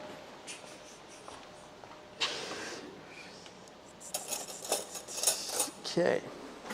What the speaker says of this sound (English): just going to get my special cutlery